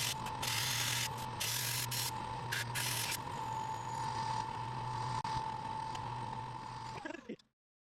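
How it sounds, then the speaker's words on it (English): A milling machine cuts a slot in a steel knife guard, giving a steady mechanical whir with a constant hum and bright grinding bursts early on, running loud and continuous before it spins down and stops. "we can see the slot being milled as efficiently as the spacer"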